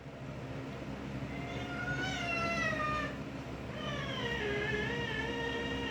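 A cat meows repeatedly, rising and falling wails over a steady low rumble of background noise.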